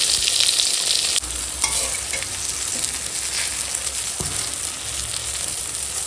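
Eggplant slices frying in hot oil, a continuous loud sizzle with a sharp burst near the start and occasional stirring scrapes, no talking.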